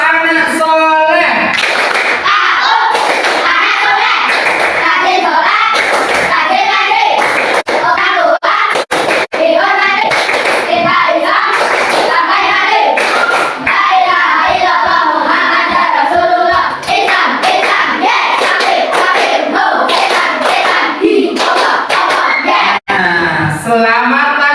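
Schoolchildren perform the Tepuk anak soleh chant, their voices rising and falling loudly over bursts of rhythmic hand clapping and thumps throughout, with a teacher's voice among them.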